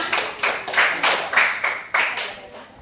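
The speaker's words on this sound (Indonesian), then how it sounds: "Iya, kita tepuk tangan untuk Febiana" Several rounds of group clapping in a classroom during a peer-teaching lesson, coming in about six distinct bursts roughly half a second apart, each sharp and close, then tapering before the next.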